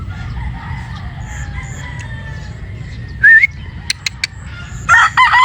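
A gray broodstag rooster, a 50-50 cross, crows once in a short rising call over steady low background rumble, followed by a few sharp clicks and a second brief crow near the end.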